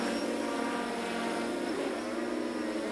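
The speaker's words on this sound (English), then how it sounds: "All right, so it's flying like a drone." A SWAN K-1 PRO VTOL drone hovers and flies in drone mode, its propellers giving a steady, loud, buzzing whine that holds evenly throughout.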